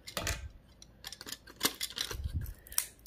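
Components being ripped off a scrap circuit board, a quick series of sharp, close snaps, clicks and scraping crunches in an irregular rhythm, no talk.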